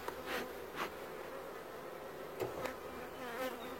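A hive of honey bees drones steadily, with individual bees swelling past close by in brief louder passes during a summer honey harvest.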